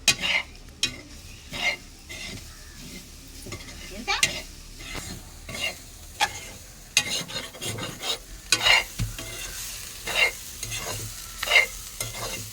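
Food fries and sizzles in a pan with repeated stirring scrapes and clinks at a steady rhythm, close by and moderately loud, with no talking.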